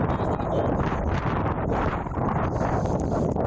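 Strong wind blows hard in a backyard, a loud continuous roar of gusts battering the microphone with no break, faint rustling mixed in.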